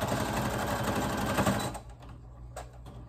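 A sewing machine runs fast for about a second and a half while back-stitching a fabric face mask, a dense rapid clatter that stops abruptly, followed by a couple of faint clicks.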